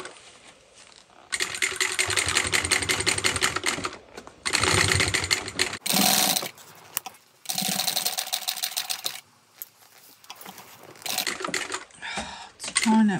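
A sewing machine stitches through very thick backpack fabric in several loud bursts of rapid needle hammering, separated by short pauses, with a brief whirring run near the end.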